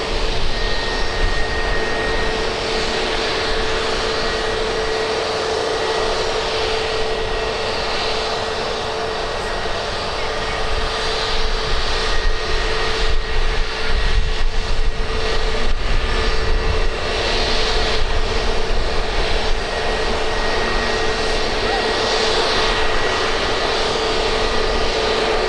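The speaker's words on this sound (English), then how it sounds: "EasyJet's 4 miles out," An easyJet airliner on approach to Birmingham Airport, with a broad, steady jet-engine roar that stays loud and even throughout, with no talking.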